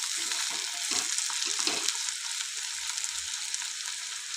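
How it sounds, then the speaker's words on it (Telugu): Bitter gourd (kakarakaya) fries in a pan with a loud, continuous bright sizzle, and a few low stirring thumps come early on, close by, with no talking. "ఇంకొంచెం సేపు అయితే మన కాకరకాయ కంప్లీట్గా ఫ్రై అవుతుంది"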